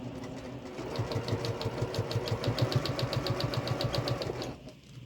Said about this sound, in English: So I'm just going to center that in my presser foot and stitch it